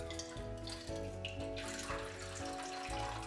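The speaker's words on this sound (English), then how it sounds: "I'm gonna pour it pretty slowly on there." Water poured slowly and steadily onto an absorbent polymer, giving a continuous gentle trickling and splashing that stays close and fairly quiet throughout, with no talking.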